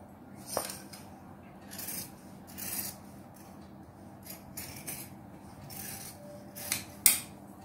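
Scissors cut through fabric for a child's coat-style frock, giving a series of soft, crisp snips and rustles spaced a second or so apart, close and fairly quiet, with a sharper snip near the end.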